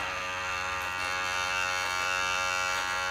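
Electric make-up brush cleaner spinning a brush in water, a steady high-pitched motor whir with a constant buzzing tone, unbroken and close.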